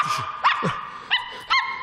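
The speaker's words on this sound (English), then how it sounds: "Hey, Pete, that's your dog running away from your house" A dog in a 1950s sitcom scene running away from a house, giving several short, sharp barks and yips in quick bursts, fairly close and clear, with no talking over it.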